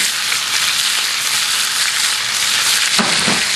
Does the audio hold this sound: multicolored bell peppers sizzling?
yes